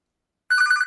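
A Samsung Office Phone ringtone starts abruptly after silence, an electronic ring with a bright warbling tone that holds steady at moderate loudness, heard on its own.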